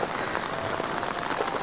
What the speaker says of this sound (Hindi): अच्छी रिमझिम बारिश और बीच बीच में तेज़ बारिश हो रही है।